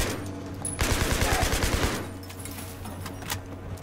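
Gunfire and explosions in the Battlefield 3 video game: a loud rapid burst of automatic fire with blasts, then quieter scattered shots and sharp cracks over a low background hum.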